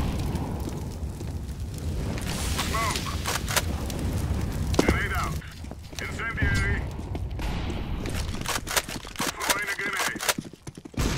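Grenade and incendiary blasts from Counter-Strike gameplay erupt in several bursts, with a sharp boom near the middle, layered over steady in-game noise and a voice calling out throws.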